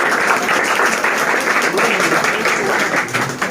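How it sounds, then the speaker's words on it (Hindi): A crowd claps loudly and steadily for a coaching-centre director at a student physics-class felicitation event, the dense ovation sustained for several seconds with faint voices underneath. "एचएमसी के संचालक मिस्टर उदय सर के लिए जोरदार तालियां हो जाए"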